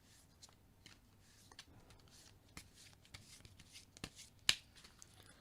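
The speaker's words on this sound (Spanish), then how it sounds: "Pero vamos a barajar." Tarot cards being shuffled by hand, a series of soft riffling and flicking bursts with sharper snaps, close and fairly quiet with no talking.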